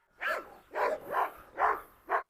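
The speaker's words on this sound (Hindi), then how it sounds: "मादा कुत्ते पे हमला कर रहा है" A Doberman attacking a female dog lets out five loud, harsh bark-like snarls in an uneven rhythm, each burst short and close, with quiet gaps between them and no speech.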